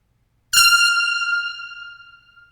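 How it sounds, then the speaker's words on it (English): One sharp air horn blast sounds suddenly, then rings on in a large echoing gymnasium, its tone fading gradually over about two seconds. "Let's do one more hit with the air horn just to really hear it."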